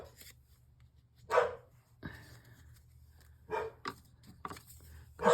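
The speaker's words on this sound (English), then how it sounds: "She's barking at my brother." A dog barks indoors in a few short, sharp bursts spread across several seconds, moderately close, with light shuffling and handling noises between the barks.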